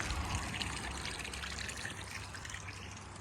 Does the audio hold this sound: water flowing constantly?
yes